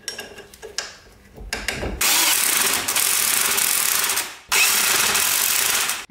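On a Peugeot 205, the bolts holding a brake caliper are driven in with a power tool, giving two long, loud whirring runs after a few knocks and clanks, with no talking.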